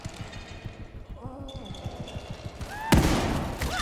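Shotgun fire in The Evil Within 2 horror game, a single loud, sharp blast near the end, preceded by steady thudding footsteps and a rising creature-like wail.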